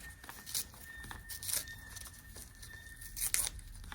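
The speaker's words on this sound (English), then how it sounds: "I'm gonna rip this here. And I'm gonna rip this here." A long piece of sculpture material torn off by hand in several short ripping bursts, close and crisp, separated by quieter handling pauses.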